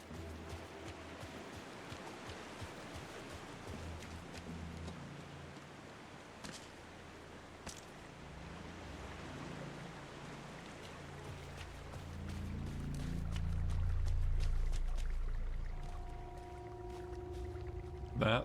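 Continuous rushing creek water near a waterfall in the video game Alan Wake 2, a steady broadband flow that swells louder toward the end, with brief soft game sounds over it.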